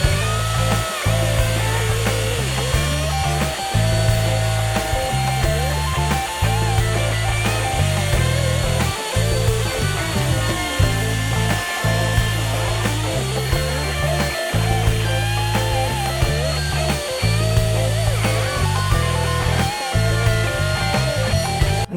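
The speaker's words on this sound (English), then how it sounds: "I want to round over any edges that are not currently rounded over" Power tool work on 2x4 lumber, a router rounding over the edges of step stool rails and braces, running loud and steady with a heavy low hum and repeated short pauses between passes.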